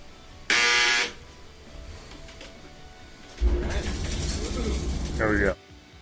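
A Whirlpool clothes dryer, just repaired after a buzzing, no-start fault, runs with a loud steady broadband whir and mechanical hum. Bursts of noise start and stop across the clip, with brief voices and sounds of handling in between.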